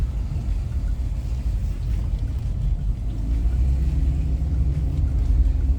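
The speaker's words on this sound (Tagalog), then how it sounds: "Mukhang uulan na. Kumukulog na guys." Deep, steady low thunder rumbling on throughout over Medicine Hat, Alberta, distant, with no voices.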